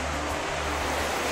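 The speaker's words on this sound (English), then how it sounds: "You can hear the waves crashing." Ocean waves crashing on the beach at Mazatlan, Mexico, a dense continuous roar of surf heard steadily and fairly loud throughout the short stretch, with no voices.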